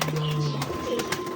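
Pigeons coo in a short, soft, low rolling call close by, with a faint steady background hum.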